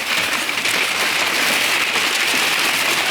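Packing paper crackles and rustles continuously while car parts for a Volvo 240 are unboxed, a close, loud, steady crinkling with no pauses.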